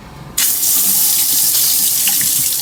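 An EZbrew F3Max chlorine filter for brewing water is depressurized, releasing a sudden loud, steady rush of water that starts abruptly and keeps flowing strongly, close up.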